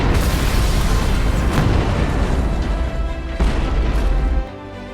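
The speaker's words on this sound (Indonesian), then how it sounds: "tiba-tiba gedung tersebut meledak." A sustained, loud explosion roars as an apartment building blows up in the 2011 Korean film Quick, a dense rumbling blast with crashing debris filling the whole stretch before dropping off abruptly near the end.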